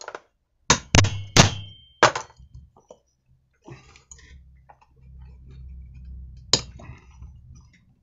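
Sharp metal taps on thread-locked screws of a Chinese petrol brush cutter, several close, loud strikes in an uneven cluster, a pause, a softer rattle and scraping, then one more tap.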